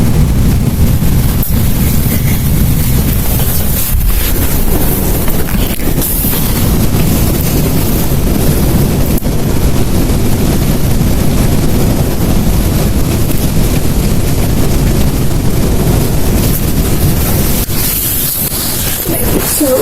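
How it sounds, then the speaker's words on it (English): Strong gusting wind during a rainstorm roars continuously into the microphone, loud and buffeting throughout with no voices. "It's really windy."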